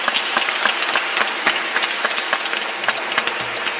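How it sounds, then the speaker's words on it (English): A seated audience at a free school's anniversary gathering gives a round of applause, a steady patter of many hands with a few sharper individual claps standing out, continuous and fairly close. "I want to give those folks a round of applause for all the humble hard work they put in"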